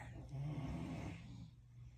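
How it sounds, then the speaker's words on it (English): Several people snore while asleep, producing a steady, close, low rasping drone that holds loud through the clip and thins out near the end. "Everybody's snoring."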